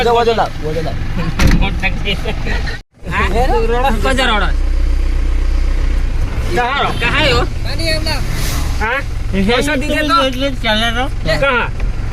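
A vehicle engine drones in a constant low rumble while several people talk loudly and continuously over it, with a brief dropout early on.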